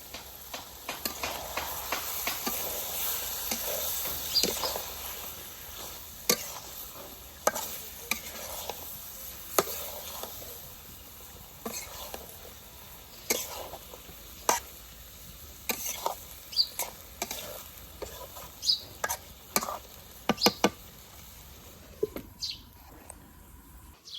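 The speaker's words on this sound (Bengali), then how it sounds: "মাংসটা খুব ভালোভাবে কষে নিচ্ছি" Meat is sautéed in a pan outdoors at a village picnic, with a soft, continuous sizzle and frequent irregular scrapes and clinks of a spatula stirring it, while birds call faintly in the background.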